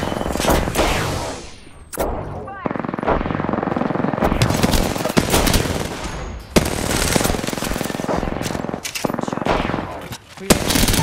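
Video game gunfire rattles in dense, sustained automatic bursts that fill nearly the whole stretch, loud and close, with only brief gaps between volleys.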